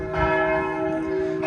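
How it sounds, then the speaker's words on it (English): Church bells toll in Paris at six o'clock, their deep ringing tones sustained and overlapping, loud and resonant from above with no talk. "you can hear the bells tolling up there"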